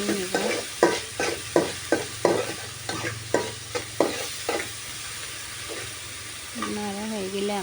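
Vegetables are stirred with salt in a pan, a fry of okra for lunch, giving a steady series of sharp rhythmic spatula scrapes over a low sizzle, close up, before a voice starts speaking near the end.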